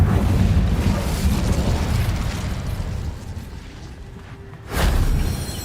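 Incendio fire spell in Hogwarts Legacy: a loud, roaring blast that rumbles for several seconds, fades, then flares again in a second burst.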